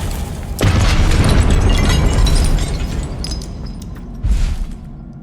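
A Confringo fire spell blasts in Hogwarts Legacy, a loud close booming explosion that rumbles and fades over a few seconds, followed by a second burst near the end.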